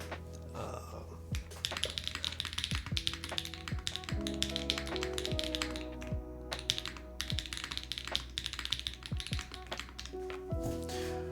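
Rapid clacky keystrokes from a custom-built Mammoth75 mechanical keyboard, dense continuous typing close up with a crisp tactile thock and no talking over it.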